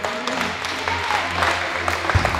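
An audience claps together in a steady wash of applause, moderately loud and continuous, with a few louder individual claps near the end.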